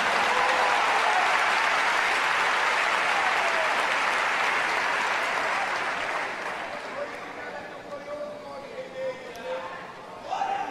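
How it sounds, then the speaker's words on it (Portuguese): A large church congregation applauds steadily for several seconds, the clapping gradually thinning and fading toward the end as a voice begins. "Quantos podem aplaudir ao Senhor pela Sua palavra?"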